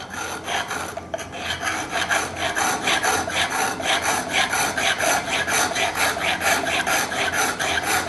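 A hand file rasps steadily back and forth across an Arbortech Pro-4 Woodcarver blade, making close, rhythmic scraping strokes with no voices.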